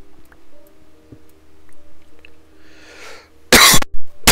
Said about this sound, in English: I do have a bit of a cough, so if I start coughing randomly